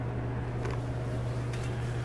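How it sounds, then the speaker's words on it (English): Commercial cooler in a kitchen giving off a steady low electrical hum that runs constantly under faint room noise, with a couple of soft brief clatters and no speech. "So I'm sorry about the hum in the background."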